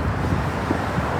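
Cold wind gusts across the high Brooklyn Bridge deck above the water, a loud steady rumbling roar buffeting the microphone, with distant traffic noise blended in.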